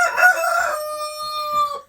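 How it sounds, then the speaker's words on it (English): A rooster crows once in a long, clear, drawn-out call that rises and then holds steady before trailing off, loud and close with no other sounds around it. "I think we've all heard enough out of Texas the rooster"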